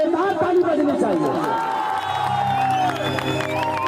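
A large crowd at a stage show cheers and applauds for India's cricket win, with loud whoops and chatter swelling over an amplified voice and music.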